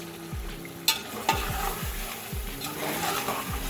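Mutton with turnips and five or six green chilies fries hard in a pot, a dense steady sizzle broken by a few sharp spoon knocks and stirring scrapes, with no talk.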